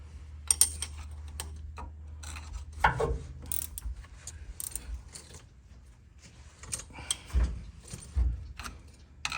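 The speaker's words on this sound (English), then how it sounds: "So I'm gonna tighten them as hard as I can with this little tool with one hand." A small hand tool tightens CV axle bolts on a Hummer H1 Humvee, giving irregular metallic clicks and clunks with quiet gaps between them, close by and without speech.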